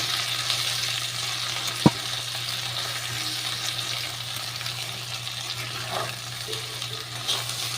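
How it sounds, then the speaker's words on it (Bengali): Okra and potato frying in a pan, a soft continuous sizzle with a low steady hum beneath and one sharp knock early on, a quiet home-kitchen background without talk. "আমি ডালের পাশাপাশি ভেন্ডি আলু ভাজা করছি।"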